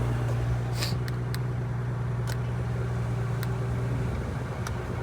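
An Audi RS3 engine runs with its exhaust valves open, giving a steady, low, close drone with a few faint clicks over it.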